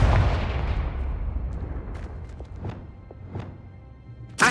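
A Confringo explosion spell in the game Hogwarts Legacy makes a heavy boom that rumbles and fades over several seconds, scattered with faint crackles, and ends in a sharp new burst.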